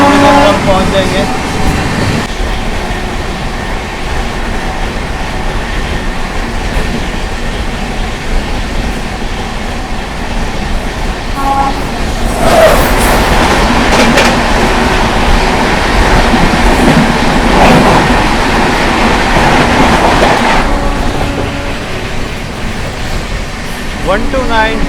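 Onboard the Sogaria Intercity SF Express, the train runs on rails with a constant loud rumble and wheel clatter, swelling in the middle with rattling and squealing and faint voices in the background.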